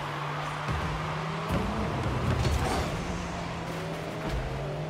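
The Ripper car's engine in Rocket League hums steadily at a low drone, with short boosts and a few swells in volume, continuous and fairly loud with no voices.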